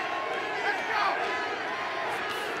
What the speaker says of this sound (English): The crowd going for Andy again.